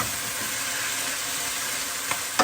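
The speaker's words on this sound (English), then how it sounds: "What we're doing is we're going to brown the meat" Thinly sliced beef browning in a hot pan for Mongolian beef with spring onion, a steady close sizzle with a couple of sharp utensil clinks near the end.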